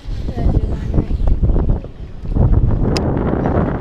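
Wind gusting loudly across the mic on open water from a fishing boat, a steady broad roar with surges and lulls and a brief faint click near the end.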